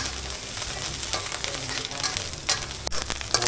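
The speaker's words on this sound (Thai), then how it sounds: "เราก็จะผัดไปเรื่อยๆนะครับให้น้ำพริกหอมๆนะฮะ แต่ว่าต้องใช้ไฟอ่อนๆนะฮะผัดไปเรื่อยจนกว่าน้ำพริกจะหอมนะ" Chu chee curry paste is stir-fried in a pan over low heat, a steady close sizzle broken by a few sharp scraping strokes of a utensil near the end, with no speech.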